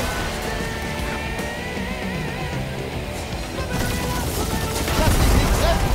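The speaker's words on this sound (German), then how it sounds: "Wir stehen unter Beschuss!" Turret gunfire in the video game Guardians of the Galaxy, a dense continuous barrage of shots and crashes that grows louder toward the end, mixed with game effects.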